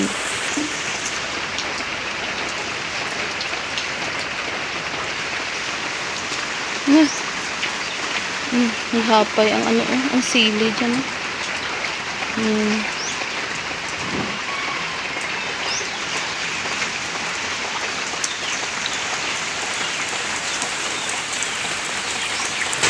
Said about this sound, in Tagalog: Nagbuhos ng malakas ang ulan.